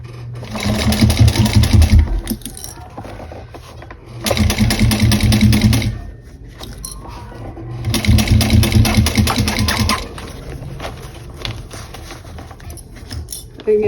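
A sewing machine back stitches a small bowler bag in three loud, fast bursts of stitching separated by quieter pauses, with a voice talking in the background.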